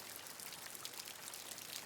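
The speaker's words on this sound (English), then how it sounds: "as you listen to the rain fall swiftly outside your window" Rain falling outside a window, a soft, steady hiss of fine drops with no breaks or louder spatters, faint and unbroken.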